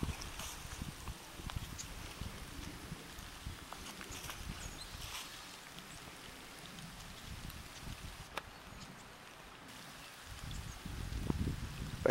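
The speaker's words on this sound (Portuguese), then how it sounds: "Vai escutar até o barulhinho da chuva." Rain falls steadily on a green rural farm beside a small pond in Minas Gerais, a soft, continuous patter with faint drips, quiet and even throughout with no voices.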